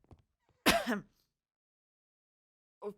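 A man gives a slight cough, a short throat-clearing burst near the mic in an otherwise quiet room, followed by silence and a faint trailing vocal sound.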